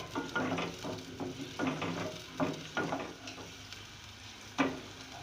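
Beef fries in a pan for curry, sizzling softly under repeated scraping strokes of a spoon as it is stirred. The sound is fairly quiet and rhythmic, with occasional louder scrapes.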